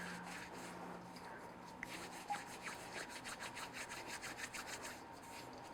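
Hands coated in sticky soda bread dough rub together in flour over a bowl, giving a soft, faint, rhythmic dry rasping that repeats in quick strokes near the microphone with no talk.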